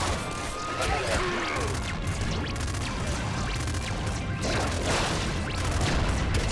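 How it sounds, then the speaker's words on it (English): Weapon fire and explosions in the video game Nuclear Throne go off in a dense, loud barrage, with repeated bursts and crashes that continue throughout. "Very meaty explosions."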